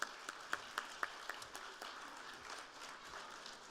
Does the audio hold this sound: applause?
yes